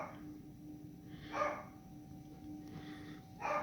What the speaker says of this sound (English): Please ignore my dogs, by the way, the postman's due.